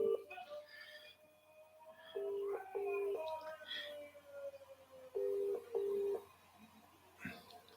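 An outgoing phone call rings while waiting for someone to pick up, giving two paired ringback tones separated by a pause, with faint background noises in between.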